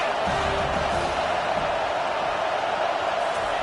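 Dense, continuous stadium crowd roar in a football video game, fans cheering behind the defense on a big third down, steady and loud throughout without clear talking.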